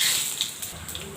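Whole spices for a Bengali fish curry tempering in hot oil, a steady bright sizzle and hiss with small spitting pops, close and fairly loud throughout.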